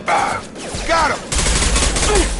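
Gunfire in the video game Mass Effect 2, loud bursts of rapid shots and a heavy sustained volley, with short vocal calls over the shooting.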